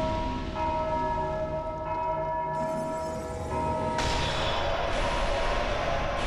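A large bell in the video game Dark Souls 2 rings out with a bright, lingering metallic tone, struck again part way through so the ringing swells and sustains over a low rumbling background.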